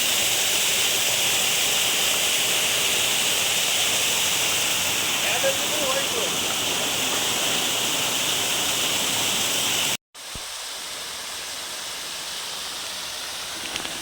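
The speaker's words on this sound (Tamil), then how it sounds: "இது one of the private falls." A private waterfall near an orchard valley resort pours in a steady, broadband rush that fills the whole scene, dropping out briefly near the end before resuming slightly quieter.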